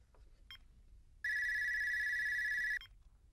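A telephone rings in one long continuous electronic trill lasting about a second and a half, clear and fairly close, with faint clicks before it.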